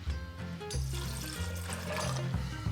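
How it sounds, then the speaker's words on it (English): Water poured from a container onto about a cup of raw cashews to make thick cashew milk, a steady close trickle and splash lasting a few seconds, with faint kitchen tones and no talking. "And then we're going to add in just under 1 cup water."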